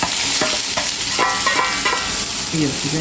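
Chopped onions frying in hot coconut oil, a steady loud sizzle with the scrape and clack of a spoon stirring through the pan.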